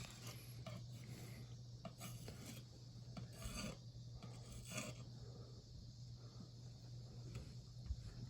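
Drywall patch compound being pressed onto a wall hole and scraped smooth gives a soft, continuous rasping scrape in short strokes. It is faint and close, with a low steady hum underneath.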